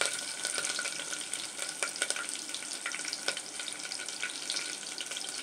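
Thinly torn green chillies frying in a pan with oil for a Tamil-style vegetable pulao, giving a steady close crackling sizzle with brief brighter pops and no talk.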